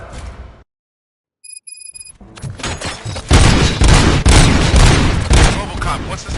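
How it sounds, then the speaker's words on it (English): Gunfire in the video game Robocop Rogue City: after a brief silence and a chiming tone, a loud, dense burst of shots and booms rattles on continuously to the end. "Gunshots?"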